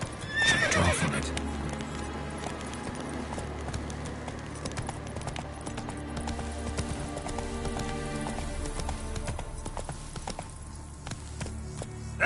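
Roach, Geralt's horse in The Witcher 3, gallops with steady hoofbeat clip-clop and a brief whinny near the start, over a continuous low game ambience with some rain-like patter.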